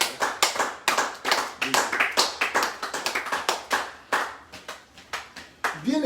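A church congregation applauds in lively, rapid rhythmic clapping that is close and loud throughout, with voices briefly audible underneath.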